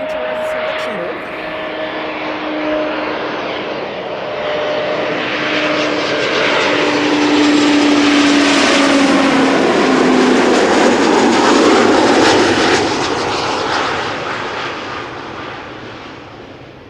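A propeller airplane arriving at Schiphol Airport from Luxembourg swells from a distant drone to a loud, close roar with a descending engine whine, then fades as it passes.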